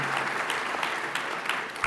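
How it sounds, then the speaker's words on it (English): Audience applause at an opening ceremony, a short continuous burst of many hands clapping with no talk over it. "in giving some applause for this"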